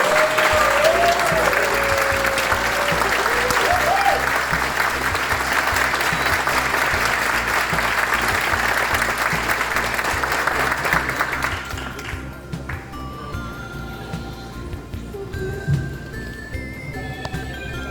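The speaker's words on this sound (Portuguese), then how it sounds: "Palmas para ele mais uma vez." Loud, sustained applause from a large audience at the São Paulo MSX Summit conference fills most of the clip, then fades out and gives way to quieter room sounds and a few scattered claps.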